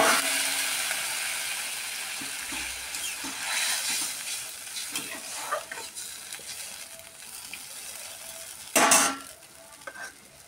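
Fish curry sizzling in a pan and being stirred with a utensil after water is added, a steady bubbling hiss with scraping and clinking strokes, one sharp louder burst near the end, no talk.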